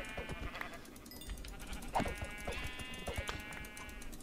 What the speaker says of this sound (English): Sheep, I'm going to go kill a bunch of sheep.